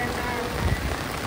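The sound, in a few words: heavy rain falling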